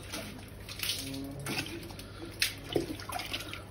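Water thrown from a bucket onto a split AC unit during home servicing, several quick splashes and spatters hitting the metal coil at irregular intervals, near and moderately loud, with no talking.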